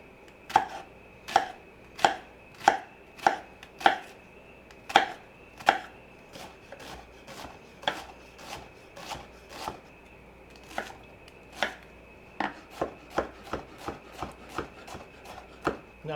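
Vegetables for pico de gallo chopped with a knife on a cutting board, a steady run of crisp, close knocks, evenly paced at first and then quicker and lighter toward the end, with no talking.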